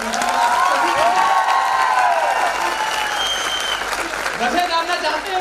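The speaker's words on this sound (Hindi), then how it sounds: "तो इस बात के लिए बहुत बड़ी तालियां होनी चाहिए।" Sustained applause from an audience at a recognition event in Indore, steady clapping with some cheering and voices mixed in throughout.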